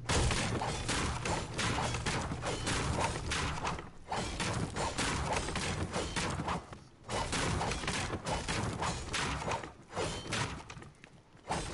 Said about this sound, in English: I heard some gunshots